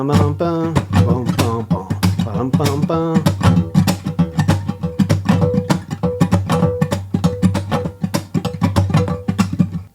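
A blues guitar riff played at a quicker tempo, with strummed chords and plucked notes in a steady, repeating groove, loud and close.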